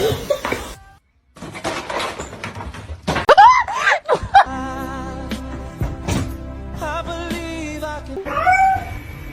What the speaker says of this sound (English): What is wrong with that cat?